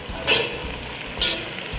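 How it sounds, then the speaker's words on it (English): Onions frying in a pan while being stirred, a steady close sizzle with two brief scraping stirs about a second apart, no talking. "let me just stir the onions"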